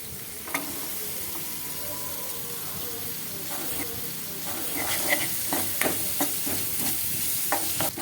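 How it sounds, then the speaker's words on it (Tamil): Onions sautéing with curry leaves, ginger, garlic and green chilies in a pan, a steady loud sizzle that grows busier, with sharp stirring scrapes in the second half and no talk. "நல்லா வதக்கிடலாங்க வெங்காயத்தை"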